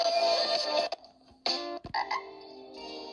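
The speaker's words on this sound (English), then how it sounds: "Is that a frog?" A frog croaks in a few short, bright bursts with brief gaps between them, close and fairly clear against a quiet background.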